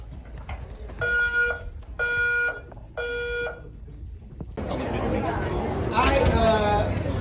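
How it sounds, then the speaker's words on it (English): An indoor fire alarm sounds three rhythmic electronic blasts, then a crowd's loud chatter and commotion fills the space. "oh, there's a fire alarm"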